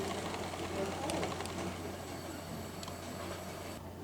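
A sewing machine stitches fabric in a fashion and design training workshop, producing a steady, continuous mechanical whirring hum close by, with people talking faintly behind it.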